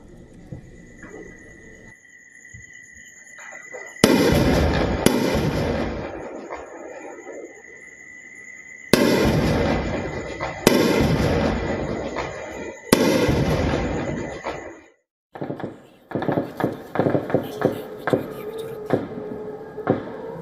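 Several loud, sharp explosions go off in Srinagar during a blackout, coming in bursts of two or three with pauses between, over a steady high whine. Dense crackling blasts close the sequence.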